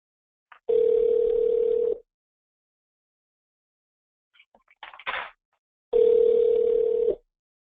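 A recorded phone call being placed: a steady dial tone, then a short burst of touch-tone dialing, then a ringback tone, each clear and alone with no talk.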